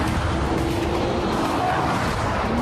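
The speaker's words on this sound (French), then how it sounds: "Voici la GTR. Des accélérations brutales." A Nissan GT-R accelerates hard, its engine a dense, loud roar that rises steadily in pitch, with a tire-and-wind rush filling out the sound throughout.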